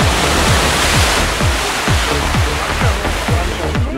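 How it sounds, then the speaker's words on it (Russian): A Lada Niva off-road car plunges into water at full speed in a forest, producing a loud, continuous churning roar of water with rhythmic low pulses throughout. "Навара с полного разгона плюхается в воду"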